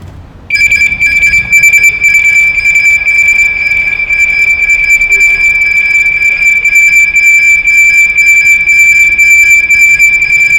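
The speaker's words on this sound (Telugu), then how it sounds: "సపోజ్ ఎవరైనా మన వెహికల్ కదిలిచ్చినా, ముందుకు మూవ్ చేసినా వీల్స్ లాక్ అవుతాయి అండ్ బజర్ అవుతుంది." A Benling electric scooter's anti-theft alarm buzzer switches on after a short pause and holds a loud, piercing, unbroken electronic tone for about ten seconds.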